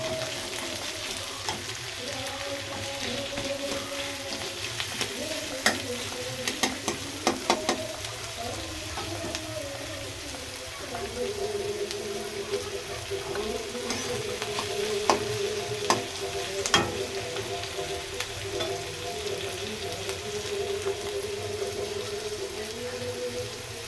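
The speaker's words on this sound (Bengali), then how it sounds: "পেঁয়াজটাকে একটু হালকা হালকা করে ভেজে নেবো" Onion frying with potatoes in a pan, a steady close sizzle with occasional scraping stirs and light clatter, moderately loud and continuous, with no talking.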